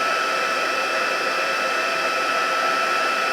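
A heat tool blows steadily as it melts gold embossing powder on a birthday card, a continuous close whooshing hiss of hot air with no talking.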